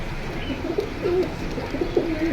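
A pair of khaki pigeons coos softly in a loft, with several low, rolling coos repeating close by over a busy background murmur.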